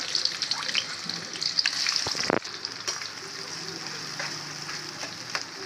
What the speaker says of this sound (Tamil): வெங்காயம் நல்லா ஃப்ரை பண்ணிடலாம்